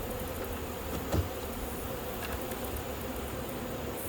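A steady, close drone of many honeybees buzzing together inside a nucleus hive, continuous and even, with no voices.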